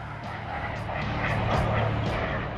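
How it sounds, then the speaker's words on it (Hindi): A Chinook helicopter flies past with a steady rotor and engine drone, a moderately distant rumble that swells slightly midway with a rhythmic rotor pulsing. "ये है वो चिनूक हेलीकॉप्टर।"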